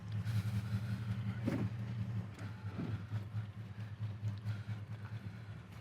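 A 1970 Ford Torino GT convertible idles and pulls away at the start of a drive, a steady low engine rumble holding throughout with a couple of brief rises in revs.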